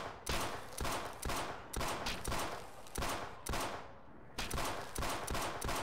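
Repeated bursts of gunfire in the video game Half-Life played in Sven Co-Op, loud close volleys in several clusters with short gaps between them.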